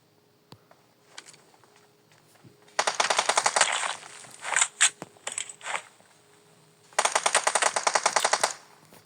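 Video game gunfire: loud automatic bursts of rapid shots in two long stretches, with scattered single shots between, close and dominant with no talk over them.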